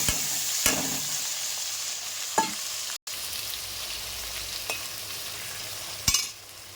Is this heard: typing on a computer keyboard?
no